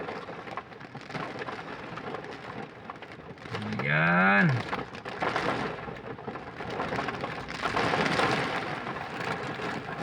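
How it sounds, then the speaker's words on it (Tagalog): Heavy rain drums steadily on the roof and windows of a parked car, a dense continuous wash that swells louder toward the end, with someone speaking briefly over it. "Ang lakas ng ulan dito sa amin."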